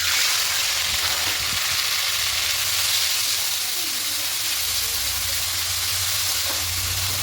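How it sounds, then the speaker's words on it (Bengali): Onion and tomato paste sizzling in hot oil in a home kitchen, a steady, even hiss and crackle that holds close and constant for the whole stretch, with no voices over it. "এবার এই তেলের মধ্যে দেবো পেঁয়াজ পেস্ট আর টমেটো পেস্ট"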